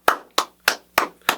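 Five sharp, evenly spaced claps ring out about a third of a second apart, loud and close, with nothing else heard between them.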